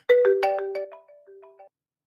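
A telephone ringtone plays during a callback to a live call-in show: a short melodic run of bright electronic tones, with several quick notes and then a few longer held ones, clear and alone.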